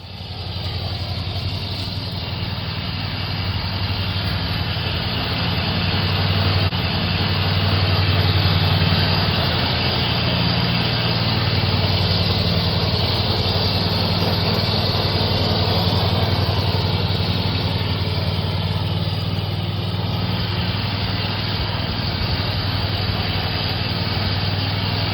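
A Hustler Raptor zero-turn lawn mower engine runs at a steady, close, loud drone for the whole stretch, holding an even idle-like pitch with no talk over it.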